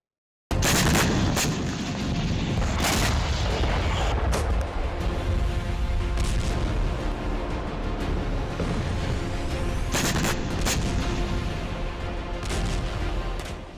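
Russian artillery shelling in Ukraine comes as a sudden, loud onset of heavy booming that holds as a sustained roar, with sharper blasts standing out near the start and again later.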